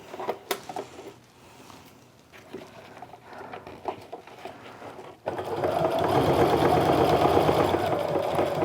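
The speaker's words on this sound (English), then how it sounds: "Go ahead and stitch to my corner, stop about a 1/4 inch away, turn the work. This part you can go a little faster." A sewing machine stitches fabric for a pleated wristlet. Short, scattered bursts of motor and needle clatter come first, then after a brief pause a steady, louder run of rapid stitching continues to the end, close by with no speech.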